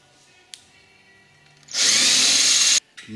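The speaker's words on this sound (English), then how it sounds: "I'm going to start with this one and drill it to" A short click, then a power drill whirs loudly for about a second as it bores a 3/16-inch hole in an ultralight aircraft part, stopping abruptly before a brief second burst.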